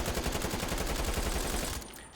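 Rapid automatic FAMAS rifle fire in Call of Duty Cold War, a loud sustained burst of closely spaced shots that cuts off near the end with a brief tail.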